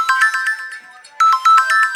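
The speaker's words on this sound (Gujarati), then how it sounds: "કેવો ફોન આવ્યો" A mobile phone ringtone plays a bright, repeating electronic melody of short pulsed notes, loud and close, pausing briefly near the middle before resuming strongly.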